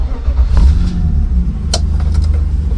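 A BMW E36 car engine pulls hard on a test drive, a loud, steady mid-pitched drone rising under load with a couple of brief clicks and knocks, no talking.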